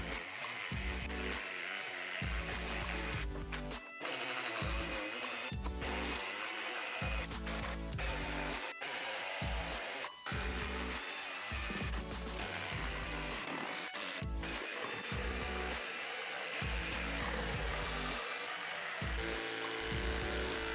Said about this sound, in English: Here I'm plunge cutting with the jigsaw.